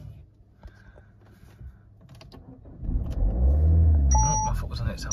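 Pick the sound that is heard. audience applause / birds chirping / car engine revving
car engine revving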